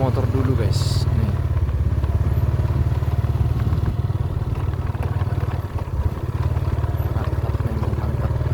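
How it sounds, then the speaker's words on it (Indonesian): A motorcycle rides around a village, its engine droning loud and steady close by throughout, with rattles and bumps from the road. "Kita keliling naik motor dulu, guys."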